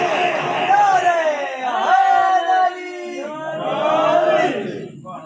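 A crowd chants religious slogans in loud sustained unison, swelling in waves with a short pause between calls.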